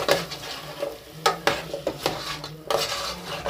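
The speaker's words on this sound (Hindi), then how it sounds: "अब हम इसमें अपने आलू ऐड कर देंगे और उसके साथ ही हम इसमें मटर भी ऐड कर देंगे" Potatoes and peas are stir-fried in masala for aloo matar curry, a spoon scraping and knocking against the pan in quick repeated strokes over a continuous sizzle, close and fairly loud.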